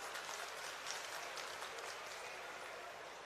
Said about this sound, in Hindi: एक बार अभिनंदन करें तालियां बजाकर